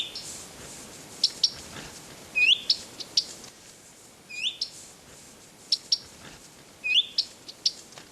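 Small birds chirp in short, high bright calls scattered across the clip, fairly faint over a quiet outdoor background in a Russian nature reserve on the Kandalaksha islands.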